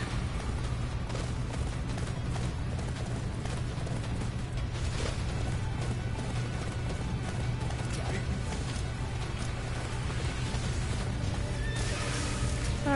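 A horse in the Attack on Titan game whinnies loudly while hoofbeats clop along, set against dense continuous game noise and distant gunfire-like bursts, with a player's voice talking over it.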